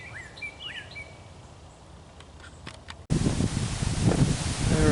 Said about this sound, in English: we're getting some decent winds here